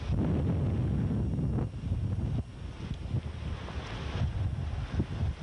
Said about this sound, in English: It's very windy right here